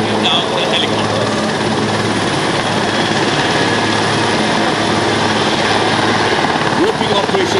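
Military helicopters hover overhead during a commando fast-roping demonstration at an air force open house, a loud steady rotor roar filling the whole span with a faint announcer voice beneath.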